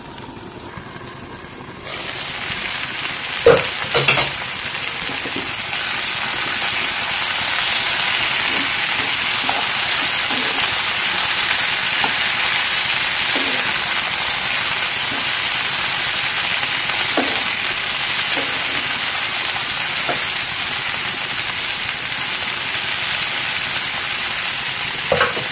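Broad beans fry in a hot pan, starting with a few sharp crackles and then settling into a loud, continuous sizzle with scattered pops and clicks, heard close up with no talking.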